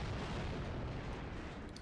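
A grenade blast in 007: Agent Under Fire rolls out as a broad, loud, sustained rumbling boom that fills the whole moment and fades only slightly toward the end.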